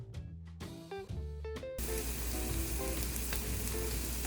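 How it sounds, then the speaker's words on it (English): Butter sizzles hard in a hot pan after cloudy Nigori sake has cooked off, a dense steady crackling hiss that follows a few brief clinks and movements. "Add 3 tablespoons of butter and let it emulsify."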